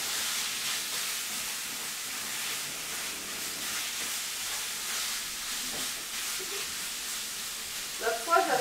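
Large chicken pieces finishing in a pan give off a steady, fairly quiet sizzling hiss that runs unbroken throughout, with a few brief clatters near the end.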